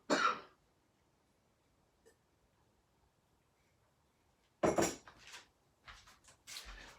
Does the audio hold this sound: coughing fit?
yes